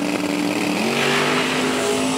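A Ford biturbo Pro Mod drag racing car launches at the strip, its engine a loud, sustained roar that climbs steadily in pitch as it accelerates.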